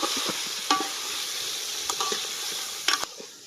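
Chicken and liver sizzle steadily in a pan with ginger-garlic paste, chili powder, turmeric and salt while being stirred. The frying hiss stays close and continuous, with a few spoon scrapes and clacks against the pan.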